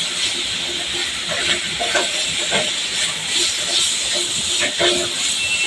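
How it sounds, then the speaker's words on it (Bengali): Bitter gourd with cumin being stirred in a pan, a steady broadband sizzling hiss running throughout with soft, irregular scraping touches from the stirring. "আমি আরেকটু নাড়াচাড়া করে দিব।"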